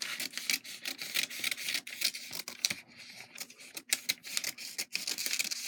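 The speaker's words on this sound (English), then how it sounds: "So I'm going to cut all the way around." Scissors cut around a fabric garment pattern in a string of quick, crisp snips and rustles close by, with short pauses between bursts and no talking.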